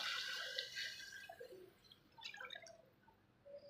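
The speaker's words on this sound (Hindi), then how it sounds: "ये देखिए अब इसके अंदर हमने पानी डाल दिया" Water pours into a pot of chicken and potato curry, a brief gurgling splash at the start fading into faint dripping and sloshing.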